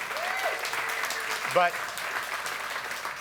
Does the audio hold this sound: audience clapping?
yes